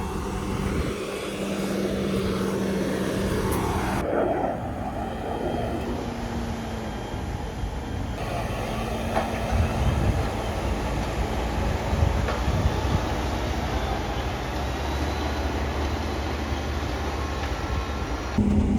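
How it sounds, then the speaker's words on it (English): Claas Axion tractor droning steadily while pulling a homemade four-ton subsoiler with Simba legs and DD packers through a field, engine note shifting in pitch as load changes, continuous and fairly close. "So this Axion's just going to have a go."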